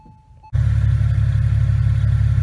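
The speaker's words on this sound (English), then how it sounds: "So I have left the car running" Porsche Boxster 986 engine starting and then running, a sudden onset into a steady loud low idle drone with a faint whine above, alone without talk.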